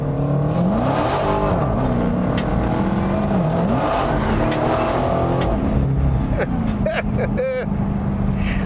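A 2023 Dodge Demon 170 accelerates hard, its engine roaring continuously and loudly from inside the car with rising and falling pitch through gear changes, while people talk over it.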